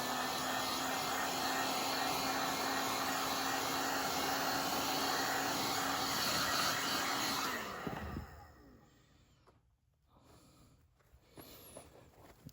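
A heat gun blows hot air onto armrest foam with a steady, loud whooshing roar that cuts off sharply about two-thirds of the way through, leaving quieter handling noises and room tone.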